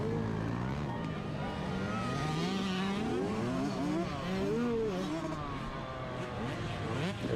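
Race cars roar past on the white flag lap at the Richland County Fair, engines revving and shifting in sustained loud waves, with people talking over the din.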